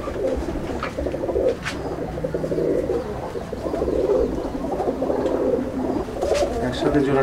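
Several Chennai breed pigeons in a loft in Andul, Howrah, keep up a continuous chorus of deep, rolling coos at close range, overlapping in waves, with brief rustles and faint voices in the background.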